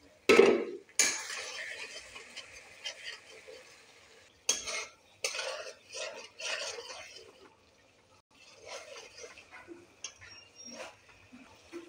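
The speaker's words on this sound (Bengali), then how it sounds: "পেঁয়াজ বাটা রসুন বাটা লঙ্কা বাটা জিরে বাটা সব মিক্স করে নিচ্ছি।" Onion, garlic, chili and cumin pastes being mixed in a bowl, with bursts of scraping and clinking of a utensil against the dish, separated by short pauses, close and fairly quiet.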